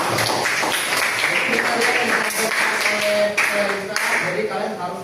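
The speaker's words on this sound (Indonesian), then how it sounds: "kita tepuk tangan dulu" University students in a classroom clap together in steady, dense applause lasting several seconds, with voices talking through it.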